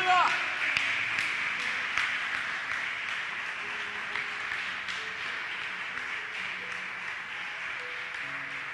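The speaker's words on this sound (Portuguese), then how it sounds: "Vamos aplaudir ao Senhor" A church congregation applauds the Lord during a Portuguese sermon, scattered clapping that starts stronger and thins to a softer, uneven patter, with a voice and faint tones underneath.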